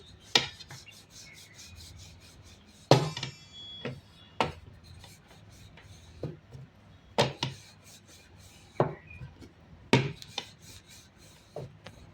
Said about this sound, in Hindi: और शुरुआत में पहले इसे हमें एक गोल रोटी के जैसी बेल लेनी है।